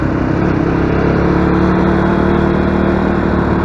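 Loud, continuous road traffic rumbles close by, with car engines droning steadily and no break or voices.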